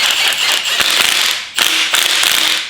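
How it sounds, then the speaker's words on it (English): A bolt on a 6.2L LT late-model engine timing cover being tightened with a ratchet, giving steady rapid clicking in three bursts, loud and close with no talk. "just give this a nice little tighten"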